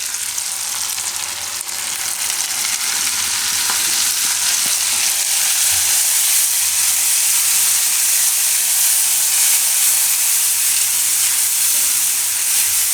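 Green paste added to tomatoes cooking in a pan for a green urad dal dish: a loud, steady, close sizzle and hiss that holds without a break, with faint stirring underneath.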